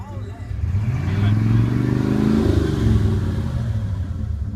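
A big Ford F-150 pickup truck engine revving low and heavy, rising and holding with a rumbling, rattling throb, close by and loud throughout.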